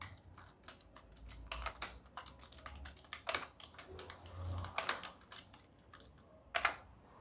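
Quiet, irregular bursts of keystrokes on a computer keyboard while names of employees are entered into an Excel 2019 spreadsheet, short clusters of taps separated by brief pauses with no talking.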